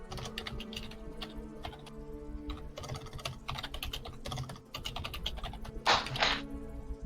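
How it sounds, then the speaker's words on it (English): Rapid typing clatters on a computer keyboard, close and steady for several seconds, with short pauses and a louder burst of keystrokes near the end, no voices over it. "Everybody got quiet for my typing."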